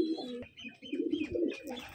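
A pigeon coos in short throaty bursts close by, soft and low in level, with a brief pause before the calls resume.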